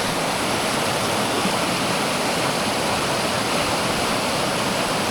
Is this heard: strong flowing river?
yes